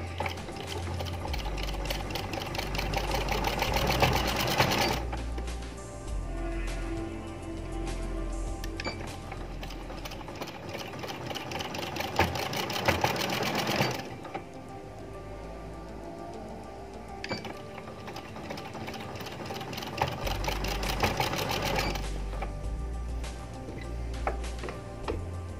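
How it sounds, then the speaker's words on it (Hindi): Domestic sewing machine stitching over an earlier seam on fancy looped sleeves, long runs of rapid needle ticking and motor whir broken by brief pauses where the fabric is turned, close and steady with no speech. "उसी सिलाई के ऊपर अब आप ये दूसरी सिलाई लगाएंगे।"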